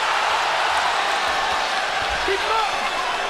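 Boxing arena crowd roaring for Gennady Golovkin in his bout with Sergiy Derevyanchenko, a dense continuous cheer filling the hall, steady and loud from start to end.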